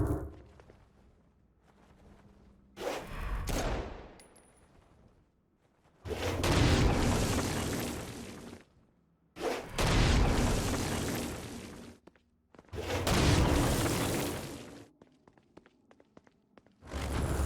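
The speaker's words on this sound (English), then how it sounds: "Stone Blast is especially useful on flying demons like this one." Stone Blast explosions in the video game Saints Row: Gat out of Hell, four heavy booming bursts each roaring for about two seconds, separated by quieter gaps of faint game ambience and small pops.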